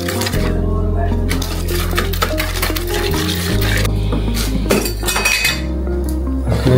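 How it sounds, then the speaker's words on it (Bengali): Eggs are beaten in a bowl while making bibikhana, a Bengali winter pitha, giving quick metallic clinks and taps that run steadily under background music. "এখন ডিমটাকে ফেটে নেওয়া হচ্ছে।"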